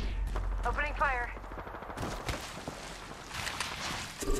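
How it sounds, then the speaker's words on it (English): Rapid gunfire crackles in the video game Apex Legends, with bursts of shots through the clip, short voice-like game chatter near the start, and loud continuous combat noise. "Opening fire."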